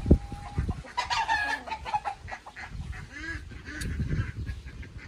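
A young bull stag rooster gives scattered throaty clucks and short squawks, close by, mixed with splashing and handling noises as it is bathed.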